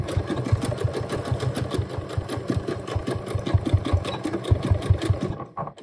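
Sewing machine stitching a 5/8 inch seam on a pants waistband with elastic, a steady fast mechanical whir and rhythmic needle clatter close up, running continuously for several seconds before stopping abruptly.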